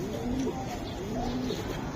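A Giribaz pigeon, held in hand, gives soft low cooing notes in a short run, close and fairly clear with faint background murmur.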